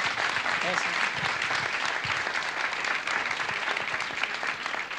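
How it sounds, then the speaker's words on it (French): An audience at a French talk event applauds with dense, sustained clapping that stays fairly even for the whole stretch. "On peut les applaudir vraiment."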